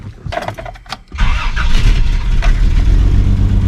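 An old Toyota Land Cruiser that stalls under throttle cranks briefly, fires up and runs loud and rough nearby, with a heavy low rumble that holds steady.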